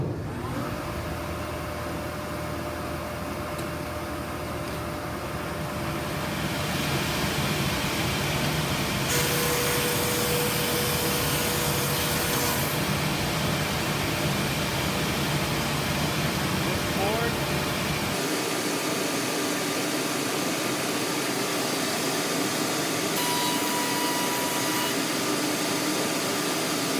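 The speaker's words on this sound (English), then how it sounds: "I'm going to turn my main motor back on, and then I'll turn the dust collection" Planer main motor and dust collector running together, a loud, steady broadband roar and whine that builds as the second machine starts, with a clear hum change partway through.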